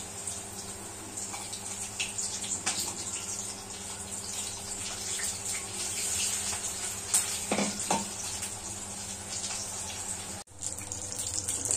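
Chili bhaji deep-frying in hot oil, giving a steady close sizzle and bubbling throughout, with a few louder pops and splashes as batter-dipped chilies go in, and no talking.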